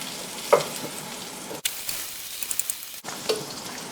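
Margarine melting in a pan while making apple crumble, a soft steady sizzle with a few light scrapes and taps, fairly quiet and close.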